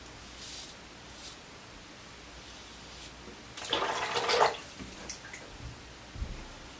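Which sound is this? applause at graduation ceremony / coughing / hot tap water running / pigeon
hot tap water running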